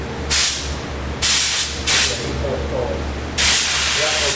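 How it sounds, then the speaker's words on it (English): A spray gun applying toner to door faces gives four loud bursts of broad hissing spray, each lasting about half a second to a second, separated by short pauses over a low steady hum. "Spray a couple times off the area."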